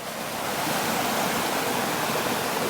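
Water of the Kingencleugh burn pouring steadily out through a stone tunnel at the end of an old bath near a weir in East Ayrshire, a continuous broad rushing wash heard close and without pause.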